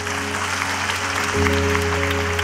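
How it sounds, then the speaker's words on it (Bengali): An audience at the Meril-Prothom Alo award ceremony applauds in a dense, continuous wash of clapping, and the clapping swells slightly partway through. A low steady hum from the hall's sound system runs underneath. "আমার মনে হয় এবার একটু জোরে তাদের জন্য একটা তালি দিই আরেকবার আমরা"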